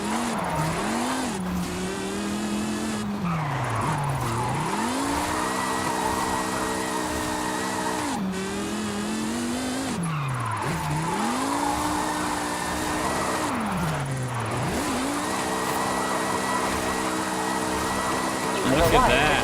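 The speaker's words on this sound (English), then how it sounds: "This car drifts so nice." Car engine revving and dropping in repeated swells with tire squeal as a car drifts in Forza Horizon 5, loud and continuous, while someone talks over it throughout.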